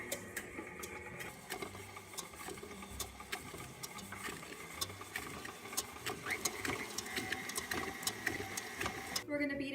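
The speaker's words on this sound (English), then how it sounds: "So now we're going to beat in the egg yolks." An electric mixer whirs steadily while beating large egg yolks into a buttermilk pie filling, a fairly faint mechanical drone with clicking and rattling under a voice speaking.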